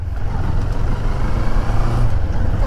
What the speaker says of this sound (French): J'accélère un peu.